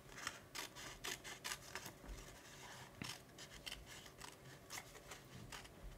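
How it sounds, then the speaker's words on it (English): Scissors snip through card stock along a scored line, giving a quick run of close, crisp cutting strokes in an irregular rhythm, with no talk over them. "So I'm just going to cut right up that score line."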